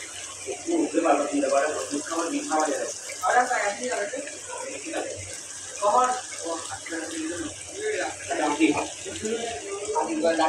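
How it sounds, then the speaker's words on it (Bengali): Water poured into a cooking pot for a chicken and potato curry, a steady hissing flow running throughout while someone talks over it. "আমি এখন পানি দিয়ে দিচ্ছি"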